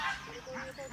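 Geese honk at a wildlife park during bird feeding, a short burst of nasal, tonal calls with children's voices and outdoor bustle mixed in.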